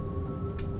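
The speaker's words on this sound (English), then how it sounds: "It's raining like crazy." Heavy rain pours in the horror game Fears to Fathom, Carson House episode, a dense steady roar with a low rumble and a faint sustained musical tone running beneath it, no voices.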